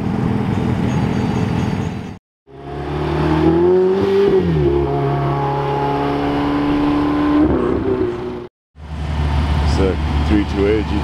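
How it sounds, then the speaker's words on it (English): A Ferrari 328 GTB drives past on a hill climb route, its loud nearby engine rising and falling in pitch as it goes by, with abrupt short breaks in the sound. "328 GTB, another one"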